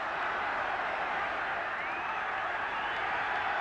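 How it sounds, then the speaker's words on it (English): A large football stadium crowd at the 1977 Northern Ireland versus England match, a constant dense roar of thousands of voices, loud and unbroken throughout, with a faint whistle-like tone rising briefly midway. "Tremendously noisy crowd."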